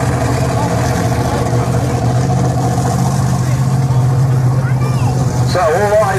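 A Bigfoot monster truck's engine rumbles steadily at a low idle during a monster truck show, a continuous deep drone with a loud crowd and announcer-style talk layered over it.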